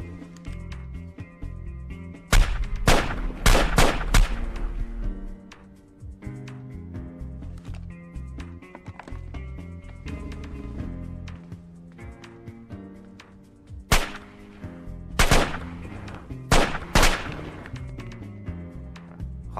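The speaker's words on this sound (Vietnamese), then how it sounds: "3 phát súng." Gunshots ring out in an action film, sharp, loud cracks coming in two tight bursts of several shots each, separated by quieter stretches of low thuds and ambient sound, with no speech over them.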